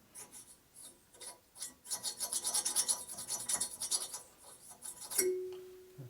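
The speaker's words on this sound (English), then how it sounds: "Now we take this and burnish this in." A valve guide bushing is burnished into a Harley M8 cylinder head, making a rapid series of close, rasping metal-on-metal rubbing strokes, then a short ringing tone near the end.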